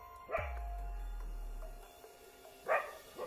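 Two sharp dog barks at night, one near the start and another near the end, standing out over a low rumbling hum and quiet outdoor background.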